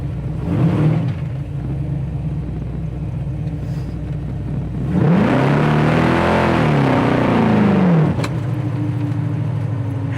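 A 1969 Camaro RS/SS restomod idles with a deep, lumpy rumble, then its engine swells into a loud acceleration midway through before settling back to a steady throb.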